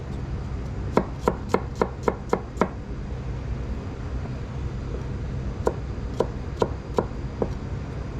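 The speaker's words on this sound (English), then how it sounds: "Okay, garlic chopped." Garlic is chopped with a knife on a board, a quick run of about seven crisp taps, then a pause and a slower group of five more, close and clear over faint kitchen hum.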